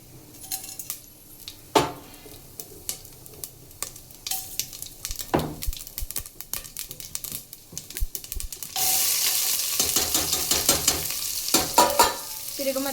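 Cumin seeds, onions and dried red chillies fry in a hot pan with sharp spoon stirs and clinks against the metal, and the sizzle swells loudly partway through as the onions hit the oil.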